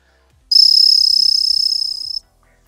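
A single sustained high-pitched blast on a dog training whistle for a working Cocker Spaniel, lasting under two seconds, loud and clear, with near silence before and after.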